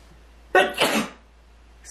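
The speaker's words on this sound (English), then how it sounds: "I got a sneeze coming." A single close, loud sneeze bursts out with a sharp intake and explosive release, then a brief quiet breath follows.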